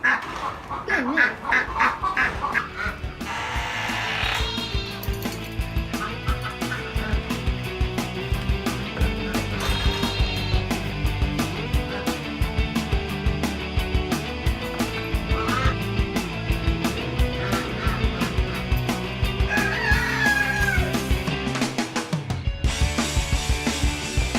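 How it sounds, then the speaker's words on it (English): A duck and a chicken fight in a farmyard flock, producing loud, busy quacking, honking and squawking that carries on almost without pause throughout, with dense clattering bird noise. "I have never seen a duck and a chicken fight."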